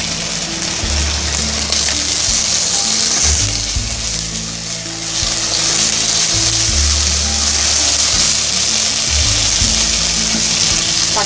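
Onions sauté in hot oil in a pan, giving a loud, steady sizzle close by that stays constant throughout, with a low background hum and no talk.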